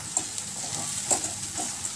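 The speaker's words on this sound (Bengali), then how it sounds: "কসুরি মেথি দিয়ে এবার এটা ভালো করে নাড়াতে হবে" Butter paneer masala with kasuri methi stirred in a hot pan, a steady soft sizzle under repeated scraping spoon strokes, close and moderately loud, with no talking.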